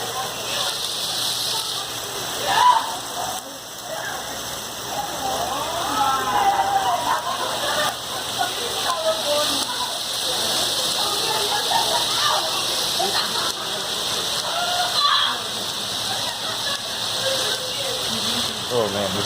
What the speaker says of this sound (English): Nope, it's rain.